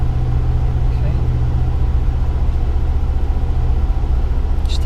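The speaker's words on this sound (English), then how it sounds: "you are going to need to use the choke a little bit, just to raise the engine revs" A Johnson outboard engine idles on choke, a steady, low drone close by throughout, an even rumbling hum with no change in revs.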